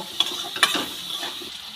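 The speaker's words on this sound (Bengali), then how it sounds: "হলুদ লবণ দিয়ে আলুগুলোকে খুব ভালো করে ভেজে নেব" Potatoes frying with turmeric and salt for a shol fish jhal, a soft low sizzle with a couple of brief clinks of a spoon against the pan, quiet and close.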